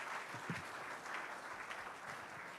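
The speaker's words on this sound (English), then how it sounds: "We can sustain that applause" Audience at a book launch event applauds in a steady, soft, distant wash of clapping that continues without a break.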